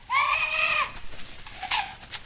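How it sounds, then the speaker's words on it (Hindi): Young goats bleat loudly in a quick pair of calls, a long wavering cry followed by a shorter one, close and clear with no voices. "लेकिन सफेद बकरी के बच्चों ने तुरंत शोर मचाया"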